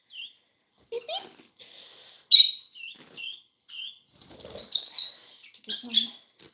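Baby guinea keets, one of them disabled, give short high chirps and peeps in scattered bursts, close by and fairly soft, with brief rustling and a faint voice between calls.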